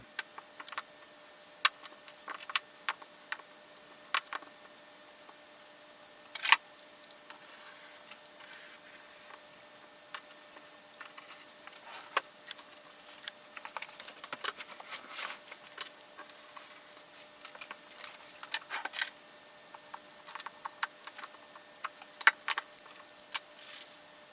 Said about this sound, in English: I find a rotary cutter is the best thing to use. So yeah, I'm just going to cut this out